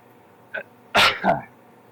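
A single sharp sneeze bursts out indoors, preceded by a brief intake of breath and followed by a short trailing exhale, close and fairly loud against a quiet room.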